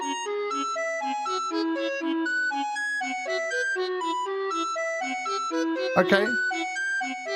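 A Chinese wind instrument sound from the KA Mini Collection app on iOS plays a reedy, piping melody of sustained and stepping notes, steady and close. A brief sharp knock lands near the end, and a voice says a single word.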